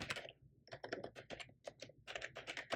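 Rapid keystrokes on a computer keyboard entering a terminal install command, a close, crisp run of clicks in uneven bursts with short pauses, quiet and alone without talk.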